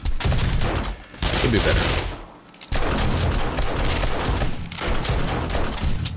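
Automated turret in the game 7 Days To Die pouring out ammo, dense loud rapid gunfire that drops briefly mid-clip and then resumes in sustained bursts, with someone talking briefly over it.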